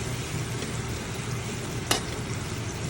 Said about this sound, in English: you're just going to wait for that sear at the bottom to be ready